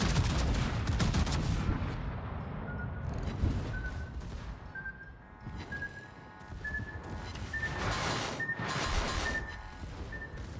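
Naval gunfire aimed at the ship Clausewitz in a video game sounds as loud booming salvos and crackling gunfire up front, settling into a rumble with a rising tonal whine and further distant bursts.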